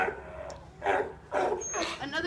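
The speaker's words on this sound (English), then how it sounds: "Another difference has to do with that really unique vocalization that sea lions have. They're known for their very distinctive bark." Sea lions bark at a zoo, giving several short, harsh, rough calls in a row over a murmur of background noise.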